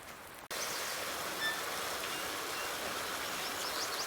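Steady hiss of rain falling in Farming Simulator 19, a dense broadband wash that starts abruptly after a brief quiet gap and continues evenly, with faint bird-like chirps above it.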